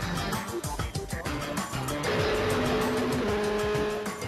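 Formula 3 race car lapping Monza in Italy, engine screaming at high revs in sixth gear down the start-finish straight, a steady loud onboard drone with gear-shift changes early on.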